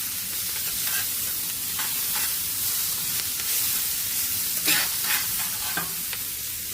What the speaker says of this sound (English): How I do my onions is that I just keep mixing